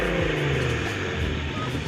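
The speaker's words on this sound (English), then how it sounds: "The sound of that VR6" A Volkswagen Mk5 R32 with its VR6 engine gives a loud, continuous throaty drone with rising and falling pitch, heard close and with nothing else over it.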